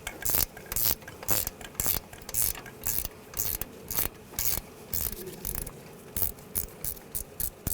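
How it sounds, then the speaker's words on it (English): Ratchet wrench on a 10mm bolt during front strut removal on a 2009-2017 Volkswagen Tiguan, giving steady repeated bursts of close, rasping clicks in an even back-and-forth rhythm, with no talk. "I'll just switch to a ratchet wrench to make it easier"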